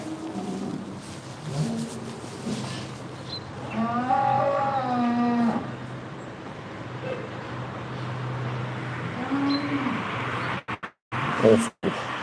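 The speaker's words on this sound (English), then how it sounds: "I can still hear cows bellowing out." Cattle in distress at a slaughterhouse let out a long, drawn-out bellowing moo at moderate distance, followed later by a shorter lowing call, over steady background noise and handling bumps near the end.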